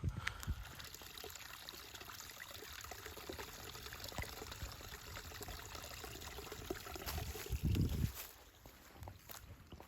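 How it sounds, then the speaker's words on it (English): A small stream of rainwater runoff trickles beside a hiking trail near Raven's Rock in Morgantown, West Virginia, a faint, continuous burble of running water with a few soft outdoor rustles. "Got this little stream here. This is just runoff from rainwater, but it's still pretty cool."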